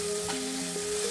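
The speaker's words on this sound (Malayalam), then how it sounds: "വഴറ്റിയെടുക്കാം നമുക്ക്" Chopped garlic frying with prawns in a pan, a steady close sizzle with light stirring, no voices.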